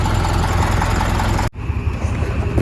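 A tractor engine runs loud and steady while straining to pull through soft, unpaved mud. Its dense roar briefly drops partway through, then continues.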